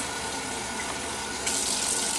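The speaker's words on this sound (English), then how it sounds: "rinse it in cool water" Cool tap water runs steadily from a faucet to rinse sprouted wheat, a loud continuous gushing splash with no pauses, brightening slightly partway through.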